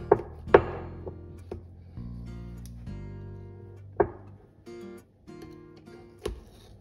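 A knife slicing through a homemade jambon persillé, a parsleyed ham set in aspic: a few distinct cuts and knocks on a board, fairly close and quiet, spaced out with soft handling noise between them.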